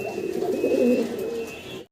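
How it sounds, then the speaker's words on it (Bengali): Large black Gopalganj pigeons give low, continuous throaty cooing, fairly close and steady for about two seconds before it stops abruptly. "গোপালগঞ্জের বড় পায়রা, ব্ল্যাক কালার।"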